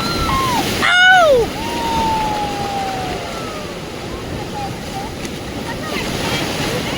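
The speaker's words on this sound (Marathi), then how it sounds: "ते कशा लाटा खेळू राहिल्या बघू शकता तुम्ही" Rough ocean surf rolls onto a Goa beach with a loud, continuous wash, plus wind buffeting the microphone and a brief whistling tone early on; no clear speech.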